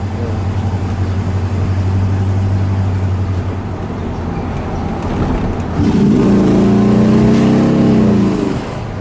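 A 1960 Chrysler 300F two-door hardtop with an eight-cylinder engine idles with a low rumble, then revs hard into a loud, rising roar that holds and eases off, heard close by with no talking.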